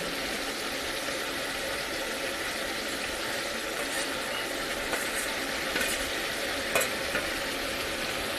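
Patra leaves for a Gujarati ridge gourd and patra shaak fry in a pan with a soft, even sizzle under light stirring and a few faint clinks, heard close and moderately quiet.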